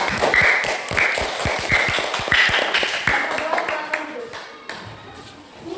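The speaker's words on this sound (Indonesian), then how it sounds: "Oke, tepuk tangan untuk kelompok 2" Schoolchildren in a classroom clapping for a group after a science presentation on magnets, a brisk run of close, sharp hand claps with voices mixed in.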